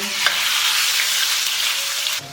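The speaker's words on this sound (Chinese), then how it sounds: "先把五花肉煸香" Chunks of pork belly fry in hot oil in a wok, a steady, close sizzle that cuts off abruptly near the end.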